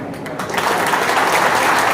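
An audience at a scholarship distribution ceremony in Tinsukia applauds a schoolgirl after her speech, with dense, steady, loud clapping that builds quickly and continues throughout.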